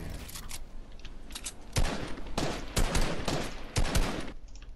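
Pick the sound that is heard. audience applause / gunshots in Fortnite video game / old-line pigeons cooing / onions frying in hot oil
gunshots in Fortnite video game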